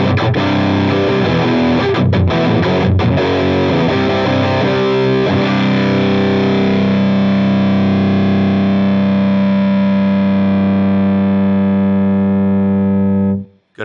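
Electric guitar through the DC Distortion amp model on a Headrush MX5 with treble up and bass down, playing loud aggressive distorted riffs with choppy palm-muted hits, then a held chord that sustains for several seconds before cutting off abruptly.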